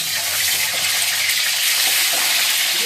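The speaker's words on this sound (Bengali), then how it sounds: "প্রথমে আমি ডিমগুলো ভেজে নেব।" Eggs frying in a little oil in a home kitchen pan, a steady dense hiss and sizzle with faint crackles, close and continuous, no talk.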